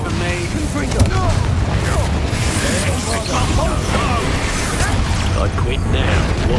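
Blasting-spell explosions from the Hogwarts Legacy game, heavy booming bursts and crashes in a dense, continuous spell-combat din, with a game character voice calling out spells over it.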